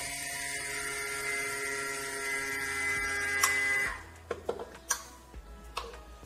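A vacuum sealer sealing food storage containers runs with a steady electric whine and hum for about four seconds, then stops, leaving scattered small clicks and taps.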